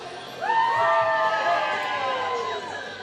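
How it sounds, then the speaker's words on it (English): At a college baseball game, spectators let out rising whoops and cheers that swell suddenly, hold for about two seconds, then fade into the background murmur. "Crowd getting into it a little bit"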